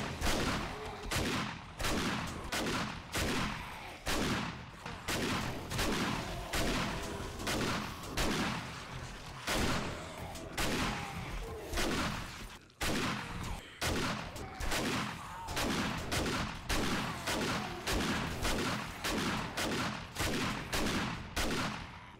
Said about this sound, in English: I can start shooting through.